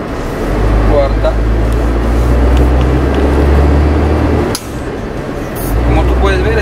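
Sinotruk Howo T7H 8x4 dump truck with a 440 hp diesel engine pulling in fourth gear, a loud, steady low engine drone that drops briefly at a gear change and then builds again.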